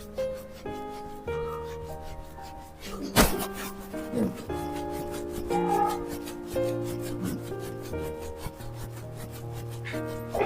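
Hands rubbing the back of the neck during a yoga breathing practice, soft dry friction strokes with one sharp louder rub midway, set against sustained tonal background music.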